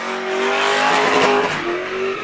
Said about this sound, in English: sedans usually look good drifting